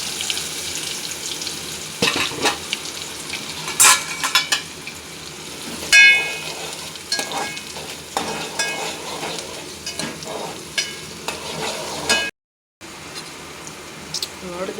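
Chopped onions sizzle in a hot pan while being stirred, a steady hiss broken by scraping and clinking of a utensil against the pan, with one brief drop-out near the end.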